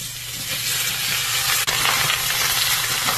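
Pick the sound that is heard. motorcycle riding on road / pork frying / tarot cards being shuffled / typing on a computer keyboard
pork frying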